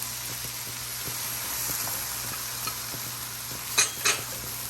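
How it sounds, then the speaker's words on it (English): Chow mein noodles stir-frying in a hot pan with sauce added, a steady sizzle and hiss under scraping stir strokes, with a couple of louder tosses near the end. "Add the sauce."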